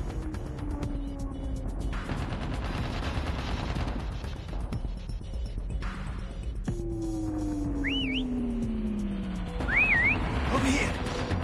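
Whistle sounds in the Call of Duty Mobile video game, short rising and falling chirps heard twice over a busy backdrop of gunfire, engine drones and game effects.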